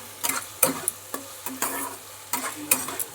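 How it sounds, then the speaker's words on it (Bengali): Garlic, onion and ginger stirred in a hot frying pan, with a spatula scraping in quick irregular strokes over a steady sizzle, close and fairly loud, with no voices. "সেটাকেও রসুন পেঁয়াজের সাথে ভালো করে নেড়ে নিচ্ছি"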